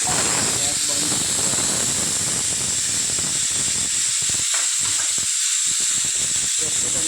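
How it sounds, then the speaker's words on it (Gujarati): Small chopped capsicum pieces frying in hot oil make a continuous close hiss and sizzle while a person talks over it for most of the stretch. "આ કેપ્સિકમને આ નાના નાના સુધારે છે, એને આપણે તળવાના, કારણ કે એના બફાય નહીં. એટલે તેલ મૂકી દીધું છે."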